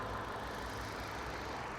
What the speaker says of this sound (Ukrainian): мотор працює рівно